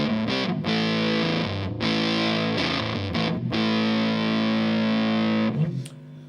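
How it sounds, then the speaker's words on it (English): An electric guitar played through an Electro-Harmonix Big Muff Pi fuzz pedal, loud and close, with thick sustained distorted chords separated by short breaks, ending in a brief pick scrape. "It's a Big Muff and this is what it sounds like."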